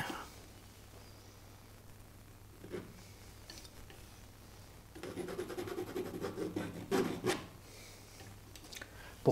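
Palette knife scraping thick oil paint across canvas while painting a wooded path scene, quiet at first, then a louder run of rapid rasping strokes near the end.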